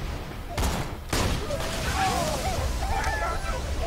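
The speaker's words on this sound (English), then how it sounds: "Oh, I just shot myself." Gunfire crackles in the video game Borderlands 2 as two sharp bursts, followed by busy in-game action noise.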